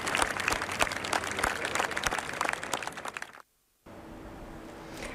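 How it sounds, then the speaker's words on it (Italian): Timid applause from mourners in a churchyard as a young athlete's funeral procession departs: a few seconds of scattered, moderately loud clapping that stops abruptly, leaving a short silence and then a low steady hum. "E poi la partenza, salutata da un timido applauso."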